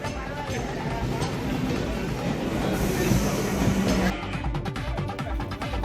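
A special passenger train runs on rails on the Ponneri–Chennai Central route, a continuous rumble with some clattering and a brief higher screech midway, while a voice speaks over it.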